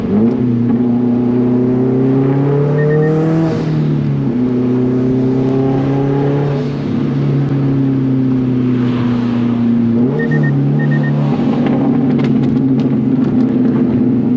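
400 HP Subaru STI engine under way from inside, a loud steady drone rising in pitch through acceleration, dipping at gear shifts and climbing again, continuous throughout.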